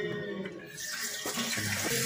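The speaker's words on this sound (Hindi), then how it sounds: "दोबारा पानी डालेंगे।" Water is poured into an emptied motorbike fuel tank during cleaning, a steady close splashing and gurgling stream that fills the whole short moment with no talk.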